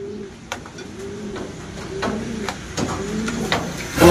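Racing pigeons cooing in a loft, repeated low throaty coos close by with a few light knocks and wing or perch noises in between.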